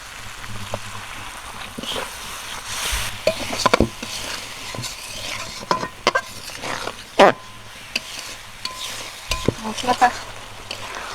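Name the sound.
spice masala with water being stirred and fried in pan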